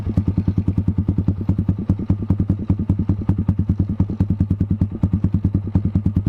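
A Kawasaki Z200 motorcycle fitted with an SC Project exhaust idles up close in a loud, even, rapid thumping burble, each exhaust pulse crisp and regular throughout.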